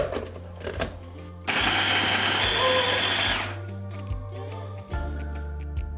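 A blender purées hot chili pepper with olive oil, a loud whirring burst of about two seconds that stops abruptly, with quieter kitchen sounds before and after.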